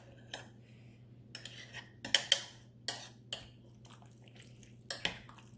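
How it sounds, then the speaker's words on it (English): Spoon clinking and tapping against a crockpot while stirring garden tomato soup, a handful of sharp, scattered knocks with quiet gaps between them, close by and alone. "And put that in there, stir it up."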